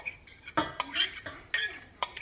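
Microwaved frozen broccoli pieces go into a pot of broccoli cheddar soup, making clinking, scraping sounds of a utensil against the metal pot in several sharp, irregular knocks, close and moderately loud with no talk.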